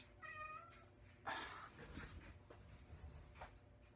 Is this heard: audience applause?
no